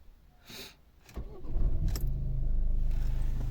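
A 2011 Volvo V50 1.6 D2 diesel cranks briefly after a few clicks, then catches and settles into a steady, low diesel idle close by.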